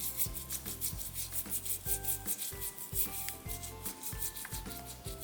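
A toothbrush scrubs back and forth over the bottom of an egg, giving steady close rubbing strokes in a repeated rhythm, alone without speech.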